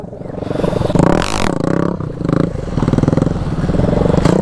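A Bajaj Pulsar NS200 motorcycle during wheelie training, its engine revving loudly with repeated throttle bursts, close by, with rattling and scraping mixed in.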